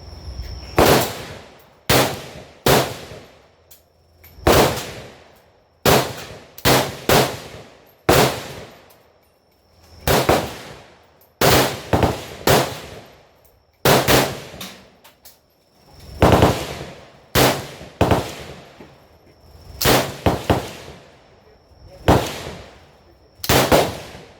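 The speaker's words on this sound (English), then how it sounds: "I'm going to try out the shooting the AK-47" AK-47 rifle fired at a shooting range in Vietnam, with sharp, loud single shots and short bursts repeating at an irregular pace across the whole stretch, each crack decaying quickly into the open air.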